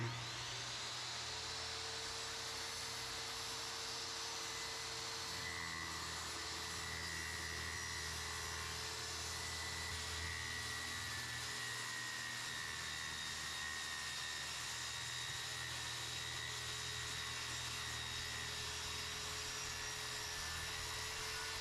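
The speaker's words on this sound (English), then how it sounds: "Make sure our saw is set up correctly for the depth of the plywood" Circular saw cutting plywood along a straight edge clamped on both sides, giving a continuous high whining drone that holds steady for the whole stretch without a break.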